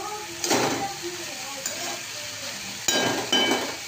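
Vegetables for a sandwich fry in a pan while being stirred, with a steady sizzle under scraping bursts of a spoon against the pan.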